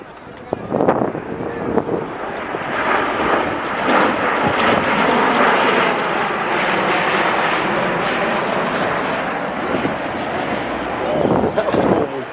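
A V-22 Osprey tiltrotor roars past at an air show, a loud sustained engine and rotor rumble that builds and fades as it transitions overhead, with an announcer talking over it and crowd noise.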